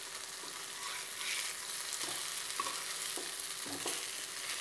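Dry masala idlis fry in a pan with a steady broadband sizzle, broken by several soft clinks and scrapes as pieces are stirred and turned, close and alone without any voices.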